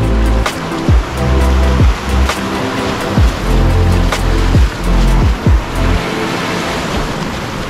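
River rapids on the Cheoah River near Bear Creek Falls, heard while kayaking: loud, steady rushing whitewater close by, broken by repeated dull thumps and splashes.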